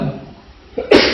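A single sharp sneeze bursts out near the end, close and loud, after a stretch of quiet room tone during an Islamic religious lecture.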